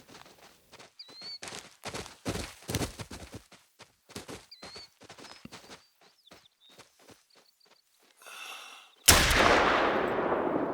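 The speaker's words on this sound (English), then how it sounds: "we can probably take him with the rifle here if these guys don't get spooked and he gives us a good shot." A hunting rifle fires at a deer in the video game The Hunter: Call of the Wild: after soft footsteps and faint bird chirps, a single loud, sharp shot bursts out near the end and rolls away in a long echoing tail.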